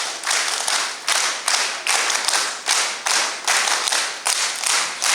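A crowd claps in steady unison at a village ceremony honouring a committee president, with about ten regular, loud bursts evenly spaced and no talk.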